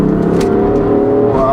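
A 2016 BMW M3 with DCT gearbox, mid-pipe and tune, heard from inside under hard acceleration, its engine droning loud and steady with a rising tone as traction control cuts in.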